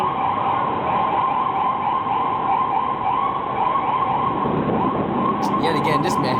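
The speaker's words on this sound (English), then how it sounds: "they don't want to move out the way for the ambulance" An ambulance's wailing siren cycles steadily over Manhattan street traffic noise, fairly loud and continuous, with a brief clatter near the end.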